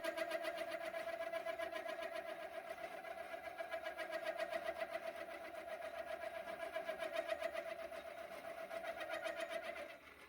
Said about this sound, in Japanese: 削りながら徐々に回転数を落とし、振動が出ない回転数を探します。